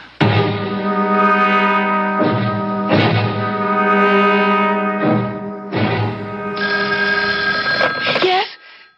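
A telephone bell rings loudly in a 1970s radio mystery drama, with repeated long harmonic bursts separated by short gaps, alone with no voices over it.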